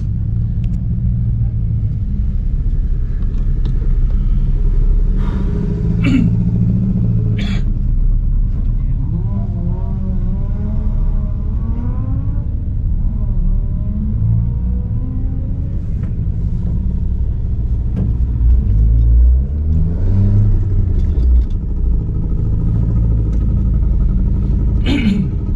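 A car engine at an Australian sprint race revs and accelerates from inside the cabin, a loud steady rumble with rising gear pulls throughout, while voices talk over it.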